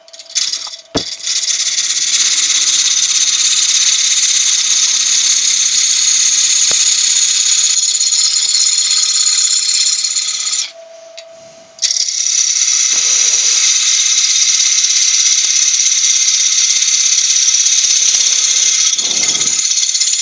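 A wood lathe spins a bowl blank while a tool rounds it off, giving a loud, steady, high cutting hiss and whine that drops out briefly partway through, then resumes just as strongly.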